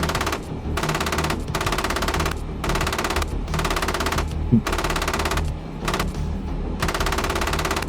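Gunfire from an M1A2 Abrams during gunnery training: loud, steady bursts of rapid automatic fire, each lasting about half a second and separated by brief gaps, repeating for the whole stretch, close and with no voices.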